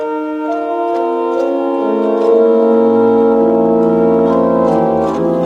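Sustained pipe organ harmony on a principal 8' coupled to a second manual with special 8' stops, rich and steady with a low pedal line joining partway, loud and close, no talking.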